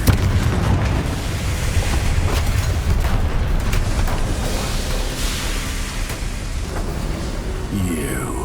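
Confringo blasting spell explosions in Hogwarts Legacy on PC: a dense, continuous roar of booming blasts and rumbling debris, loud and sustained throughout, with a sweeping whoosh near the end.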